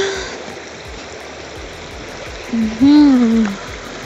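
The Sharda river stream rushes steadily in the background as a constant hiss of flowing water, with a short voice rising over it near the end.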